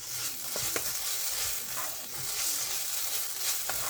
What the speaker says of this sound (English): after about 2 to 3 minutes of stirring to dry it up